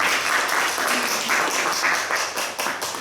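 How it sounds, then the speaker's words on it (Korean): Church congregation at a Sunday service claps together in praise, a loud, dense burst of many hands filling the sanctuary for a few seconds before tapering slightly. "하나님께 영광의 박수를 드리겠습니다."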